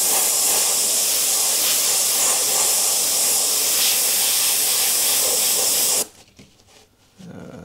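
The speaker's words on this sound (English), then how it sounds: "Carefully spray around, blending that back out." A continuous close airbrush hiss sprays paint steadily over a clown design for several seconds, then cuts off abruptly, leaving quiet background.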